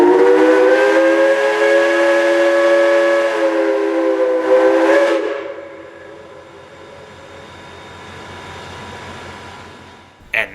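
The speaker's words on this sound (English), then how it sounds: "with 2 blasts of the whistle, 154 powers the 6-car train eastbound out of the Commons" Southern Railway 154, a steam locomotive, sounds two whistle blasts: a long, loud, steady harmonic tone that cuts off sharply, then a quieter rumble of the train moving off eastbound with a six-car consist.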